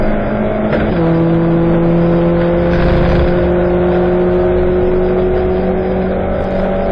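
A 750MC Stock Hatch race car at Silverstone, heard from inside the car, its engine droning loudly and steadily, pitch dropping once at a gear change and then holding, with no talk.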